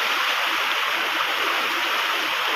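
Steady, loud rush of water pouring down the Ci Koning waterfall in Bogor, a constant broadband roar with no breaks and no voices.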